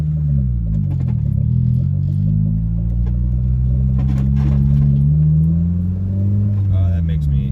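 A boosted Honda Civic EG engine hums close and loud as revs rise and fall between shifts, with clicks and rattles from inside the car.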